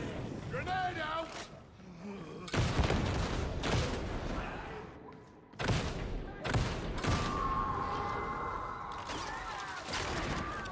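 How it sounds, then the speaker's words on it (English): A grenade blast and bursts of gunfire in Warhammer 40,000: Darktide, loud clustered shots and crashes in several waves with quieter gaps between, while players talk throughout. "Grenade out!"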